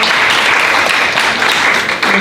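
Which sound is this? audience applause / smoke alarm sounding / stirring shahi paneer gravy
audience applause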